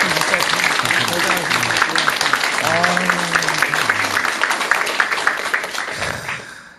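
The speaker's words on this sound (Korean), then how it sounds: "자, 박수." Studio audience applause at a Korean talk show honoring an artist, a sustained crowd of clapping hands filling the clip with voices and cheering mixed in, fading out near the end.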